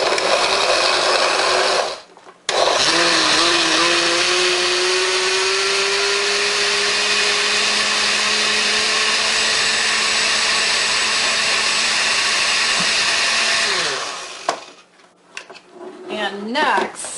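A regular countertop blender runs steadily for about twelve seconds, whirring through pear chunks and greens for a smoothie, its motor pitch rising slightly as it spins up, then cutting off into brief clatter and handling noise.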